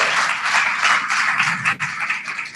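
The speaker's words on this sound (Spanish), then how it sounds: "Un aplauso" Audience applause at a large global corporate event in Dubai, a dense, loud, steady wash of clapping throughout with no talk over it.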